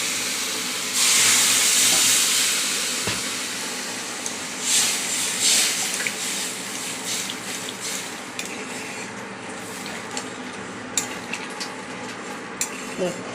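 Water poured into a pan of frying fish curry with potatoes and turmeric sets off a loud burst of hissing steam. It settles into bubbling sizzle with scattered utensil clinks.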